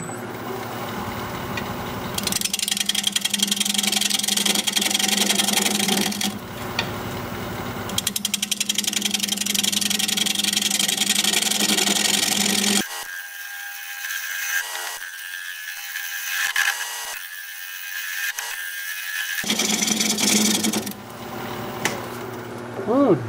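A wood lathe spinning at 670 RPM while a 5/8 inch bowl gouge cuts weeping birch gives a loud, rough scraping whir in several long passes, broken by quieter stretches where the tool lifts off the wood.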